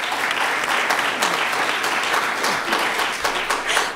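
A crowd at a state-level carbon pricing break-out session applauds, a dense, steady wash of many hands clapping nearby, loud and sustained for a few seconds.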